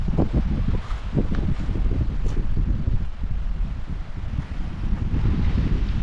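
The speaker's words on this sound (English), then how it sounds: "It's windy." Strong wind buffets outdoors at a cemetery in Brownsville in March, a constant rough low roar with gusty fluctuations and no one speaking.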